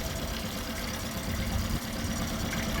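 A 2009 Mercury 8hp short-shaft four-stroke outboard motor idling, a steady close mechanical drone with a faint uneven knock, running continuously with a brief dip near the end.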